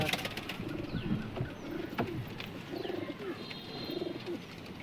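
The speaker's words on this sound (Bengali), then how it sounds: "এটা নর পায়রা" A male pigeon of a loft breed coos in soft, low, rolling phrases repeated several times, fairly close, over a constant murmur of background noise from other birds.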